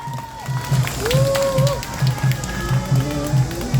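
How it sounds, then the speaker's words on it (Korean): Crowd applause and cheering at an outdoor candlelight rally in Korea protesting a new police bureau, a steady wash of clapping and shouts with rhythmic low thumps running underneath. "큰 박수 부탁드리겠습니다"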